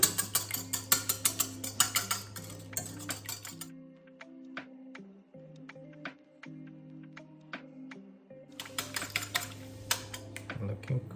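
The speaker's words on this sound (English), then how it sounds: "Two eggs is cracked. I'm gonna add about 50 ml of the milk and start to whisk them." Eggs whisked with milk in a bowl give quick, rapid rhythmic clicks of the whisk against the bowl, in bursts at the start and the end with a quieter stretch between, and no talking.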